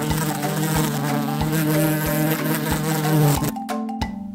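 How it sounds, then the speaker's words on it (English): A bee buzzes steadily and loudly up close with a constant droning hum, cut off by a few sharp gaps near the end. "A bee makes a buzzing sound."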